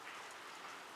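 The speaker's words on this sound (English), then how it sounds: "It's raining, huh?" Rain falls outside in a soft, even hiss of drops on surfaces, faint and steady through a brief moment with no voices.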